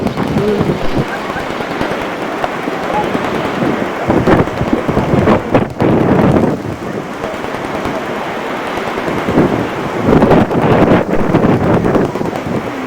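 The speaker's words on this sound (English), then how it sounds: "God, it's windy." Strong wind buffets the microphone in heavy, roaring gusts that swell and fade over a constant rushing noise.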